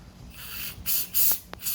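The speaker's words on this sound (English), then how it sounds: "We're just going to hit the sliders here, a little bit of brake pad cleaner," Brake pad cleaner sprayed onto the brake caliper sliders of a BMW, two short close hissing bursts over faint background noise.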